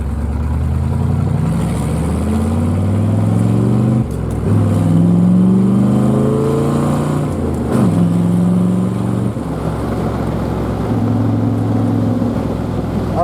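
A 1969 Corvette engine is heard from inside the cabin while driving, a loud continuous drone that climbs in pitch through the gears, with brief drops at shifts and steady cruising afterward.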